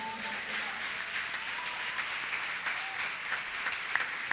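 Church audience applauding, a steady, even roar of many hands clapping at once that holds at the same level throughout, with no speech on top.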